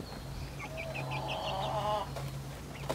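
Young Rhode Island Red and Buff Orpington chicks in a coop give a few faint, high peeping chirps over a steady low hum.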